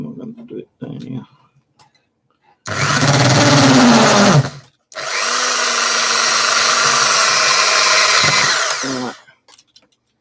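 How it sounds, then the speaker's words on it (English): Power drill boring a hole for an LED light in a homemade ghost-hunting EMF detector, two close, loud bursts of whining motor, a short one then a longer steady run, with brief speech and handling noises before and after. "I need to drill a hole here, which I've got to do for the LED light. So get the old drill out."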